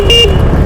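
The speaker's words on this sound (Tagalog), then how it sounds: "Try natin yung busina, nagbusina yung single ay oh." A motorcycle horn gives a single brief, loud toot close by, over a low engine rumble.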